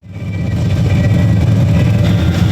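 Ultima RS race car with an LS7 engine of about 800 horsepower, running at Targa Tasmania tarmac rally; loud, close, steady low engine rumble that swells in quickly and holds, no voices.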